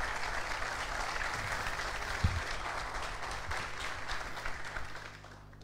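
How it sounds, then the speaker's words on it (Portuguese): Crowd applauding the coach at the Ypiranga 2023 squad presentation, continuous even clapping from many people in a large room, tapering off toward the end. "Por favor, fique em pé para receber uma salva de palmas."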